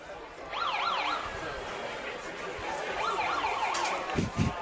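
Siren wailing at a high school football game, Bartow at Plant, a rising and falling electronic tone heard at a distance in two bursts over crowd chatter, with a few thumps near the end.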